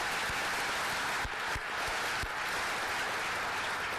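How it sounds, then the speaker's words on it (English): An audience applauds at a university announcement event, with a steady wash of clapping from many hands throughout, fairly loud and close, without anyone talking over it. "You can clap to that."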